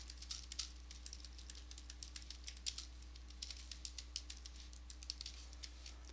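Quiet, irregular clicking of fingers typing on a computer keyboard, soft keystrokes pattering in uneven bursts over a low steady hum, with no talking.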